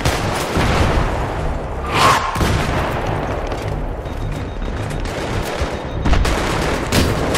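Battlefield 3 combat with a Javelin missile launch amid steady gunfire: dense, continuous rattling fire with a sharp whooshing burst near the two-second mark and another loud hit toward the end.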